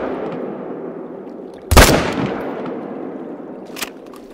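A rifle shot fired at a moose in the hunting game theHunter: Call of the Wild, a single loud, sharp blast with a decaying echo over a steady outdoor wind ambience, followed by a fainter distant crack.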